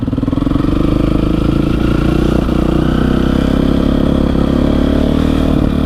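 Engine of a new motorcycle runs loud and close throughout, a steady rapid chugging rumble with mechanical clatter that holds an even pitch while riding, no talking.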